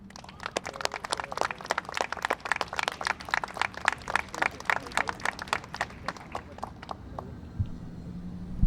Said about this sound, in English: Please give a warm round of applause to Ron Valtierra.